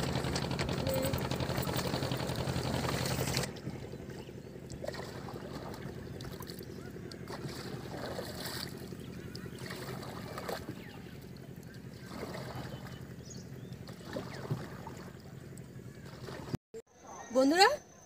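A small fishing boat drifts on a river, with steady low rumble and wind buffeting the microphone, loud at first, then quieter with faint water sounds and occasional knocks.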